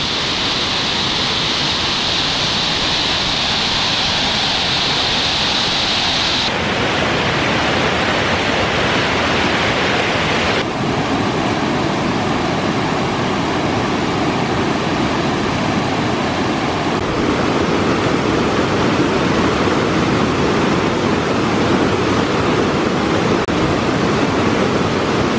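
Steady roar of a mountain waterfall in Kintrishi National Park in the Adjara mountains, loud, broadband and continuous for the whole stretch, with slight shifts in tone as the listening position changes.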